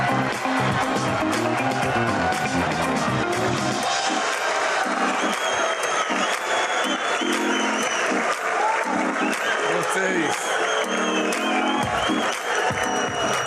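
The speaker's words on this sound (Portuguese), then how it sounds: "o presidente foi recebido com muitas vaias e aplausos" Loud crowd applause mixed with booing, whistles and shouting greets President Lula at a gathering of mayors, sustained and dense throughout with no pause.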